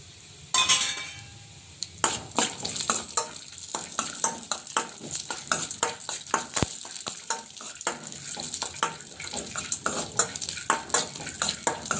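Almonds, cashews and raisins stirred and fried in a pan for rice kheer, giving repeated scraping clinks and a steady sizzle at close range, with no talking.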